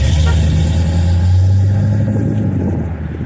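A car pulls away from an Indianapolis cruise-in car show with a strong, low engine rumble that swells and then fades over a few seconds, close by and loud, with faint crowd chatter behind it.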